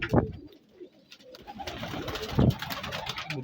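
A female pigeon with clipped wings gives two deep, throaty coos about two seconds apart, close by, over a soft rustling background.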